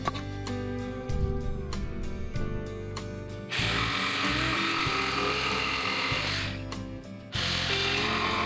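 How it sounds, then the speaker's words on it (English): A power sander works the surface of a wooden hall table during a final sanding pass, a loud, steady whir that stops and restarts several times, with rattling contact between runs. "I'm doing my final sand on the table."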